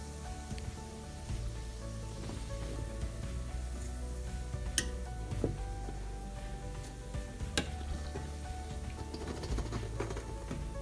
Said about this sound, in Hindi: so like you need to fry it really well